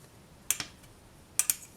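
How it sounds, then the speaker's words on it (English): A blade slices a polymer clay cane into equal lengths on a work surface, giving two pairs of quick, soft crisp cuts that are close and fairly quiet, with no talking. "Cut in half again and just basically cut it into equal lengths."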